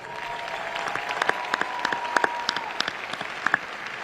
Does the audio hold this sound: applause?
yes